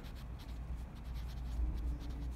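Pen writing on paper in short scratchy strokes, close and fairly quiet, with a low background hum.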